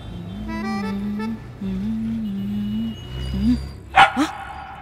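A dog wearing clothes makes long drawn-out whining vocalizations, then lets out two quick, sharp barks near the end.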